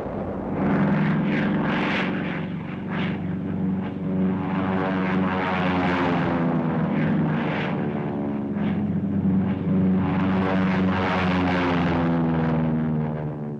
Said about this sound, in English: The attack is spearheaded by dive-bombing American P-47s.